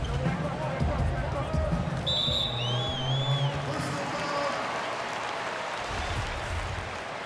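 Basketball crowd in NBA 2K18 roaring with a steady, dense murmur and cheering throughout, with squeaking sneakers and a commentator's voice running over it.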